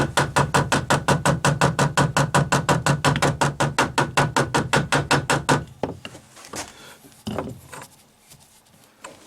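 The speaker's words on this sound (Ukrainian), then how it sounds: "я ж потрошку, я ж гумовим молотком" Rapid, even blows of a rubber mallet thud repeatedly for several seconds while fitting a nut on a lathe spindle, then give way to a few scattered knocks and quieter shuffling.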